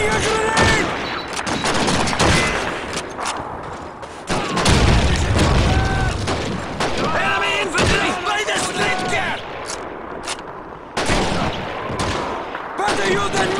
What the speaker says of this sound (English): Watch out! I'm throwing a grenade!